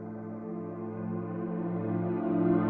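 Layered electric piano chords played in reverse sustain as a dense, steady harmonic wash, swelling slightly louder toward the end with no voices present.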